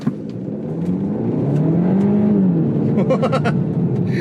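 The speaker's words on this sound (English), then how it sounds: "the winning launch combination, handbrake, engage, kind of hold that up, get off the gas" A Hyundai car engine revving against launch control with the handbrake held, a loud close drone that climbs and holds in pitch, then falls back, with a few sharp clicks and pops near the end and no speech.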